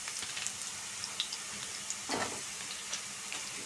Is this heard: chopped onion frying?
yes